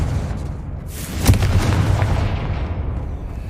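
The Confringo fire spell explodes in the Hogwarts Legacy video game, a single deep booming blast that swells quickly and rumbles out over a few seconds with no voices over it.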